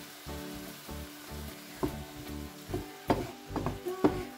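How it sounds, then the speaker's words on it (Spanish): Onion and tomato sofrito sizzles in a pan, a steady bed of frying hiss broken by a few louder pops and stirring knocks toward the end, close and moderately quiet with no talking. "La cebolla se va a dorar y el tomate pues va a desprender su líquido. Como veis, esto va haciendo chup chup"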